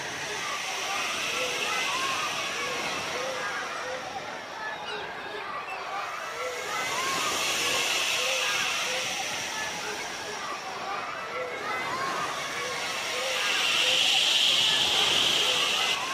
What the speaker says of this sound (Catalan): que ve el vent.